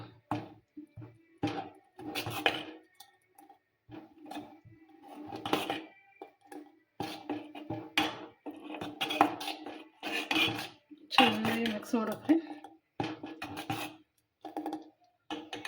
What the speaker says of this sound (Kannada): ಈಗ ಇದನ್ನೆಲ್ಲ ಚೆಂದಾಗಿ ಮಿಕ್ಸ್ ಮಾಡ್ಕೋತೀನಿ ರೀ